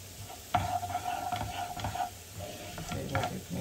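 Tomato paste being stirred into the water for oven-baked stuffed peppers, with a spoon scraping and clinking against the pan in short bursts of mixing and faint sizzle-like sloshing, close and moderately quiet.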